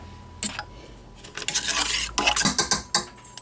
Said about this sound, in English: you're going to want to give that a good stir